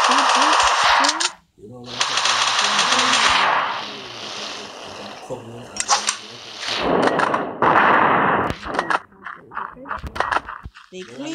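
Rapid gunfire from a shooter video game plays loudly and almost continuously, with bursts of automatic fire and sharp single shots. A brief gap comes near the start, and several loud cracks follow later.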